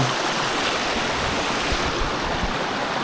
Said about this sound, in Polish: Niezła akcja, patrzcie, kaskady. Piękne kaskady.